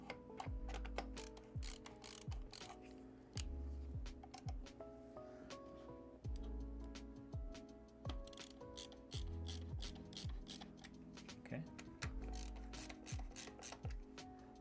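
Parts of a budget streaming PC being loosened and adjusted during a build, a long run of close, quiet mechanical clicks, ratcheting and rubbing taps in uneven bursts, with no talk.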